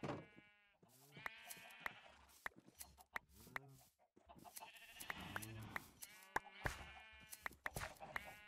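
Sheep in Minecraft bleat repeatedly, several distinct nasal calls spaced a second or so apart, close and clear, with short soft clicks between them.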